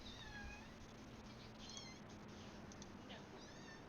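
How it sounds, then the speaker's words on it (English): A cat meows a few times, faint and distant, over the steady engine roar of a 1987 NASCAR Cup race sim at Talladega, with a voice talking. "I hope the cat's loud enough that you can hear sometimes."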